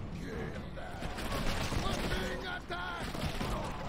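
Massed musket or gun volleys from troops in a Total War: Attila battle, a dense continuous crackle of shots over battlefield din, with a voice talking throughout.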